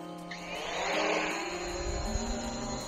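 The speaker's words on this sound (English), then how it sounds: "That's the Hubsan Zino Pro, and the wind underneath it is very strong." A Hubsan Zino Pro 4K drone lifts off: its propeller whine jumps in abruptly and swells into a strong, close, steady buzzing hum with gusty rotor wash underneath.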